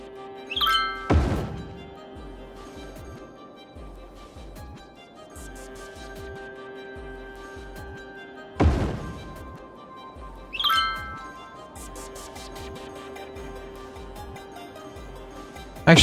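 Houses being demolished in the city-building game Cities Skylines, sharp thunking clicks at a few spaced moments over a steady ambient game tone.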